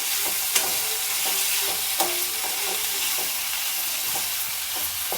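Thin round slices of bitter gourd sautéing in a pan, a dense continuous sizzle up close with occasional light clinks and scrapes of a spatula.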